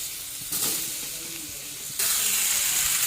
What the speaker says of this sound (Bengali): এখানে কালকুলটা ভেজে নিই